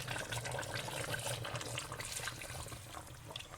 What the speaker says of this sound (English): add another 2 cups of water so that it covers the chicken